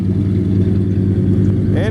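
A 1956 Chevy Bel Air two-door hardtop resto mod with a 383 stroker engine idling, a loud steady low rumble close by with a slight lope, and a voice talking over it.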